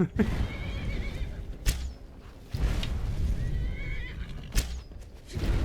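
A horse in the Skyrim video game whinnies several times in loud, sharp bursts, with hoof clatter and game ambience underneath.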